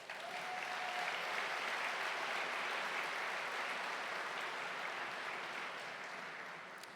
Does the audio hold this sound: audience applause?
yes